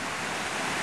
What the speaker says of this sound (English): This creek runs year-round.